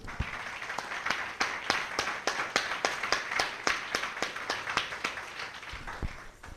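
A church congregation claps in a fast, even rhythm, each beat sharp and distinct over a dense bed of scattered clapping, moderately loud and steady until it trails off.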